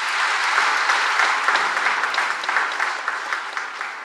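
Congregation at a church service clapping together, a steady dense round of applause lasting the full few seconds with no talk over it.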